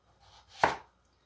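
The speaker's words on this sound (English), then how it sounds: "And now we're cutting this in half by here." A single knife stroke slices an onion in half on a cutting board, a soft crunch ending in one crisp thud, close and brief in a quiet kitchen.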